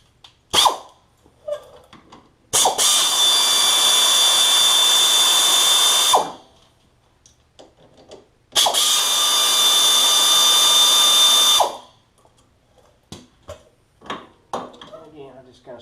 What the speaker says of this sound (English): Let's go ahead and pull those 10mm bolts out.